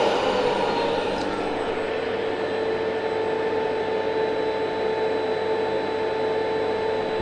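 A steady, even mechanical whir with a faint high whine runs unchanged from start to finish, a vacuum cleaner humming along at a low setting around 60 decibels with no talk.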